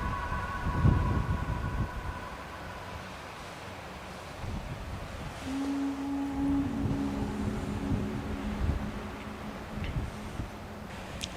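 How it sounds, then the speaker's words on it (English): Gusty wind buffets the microphone in uneven rumbling bursts, with a faint steady hum and tone drifting in the background. "It's very windy."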